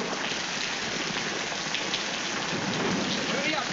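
Heavy rain roars steadily with a deep rumble of thunder running underneath, dense and continuous throughout, from a 1944 film.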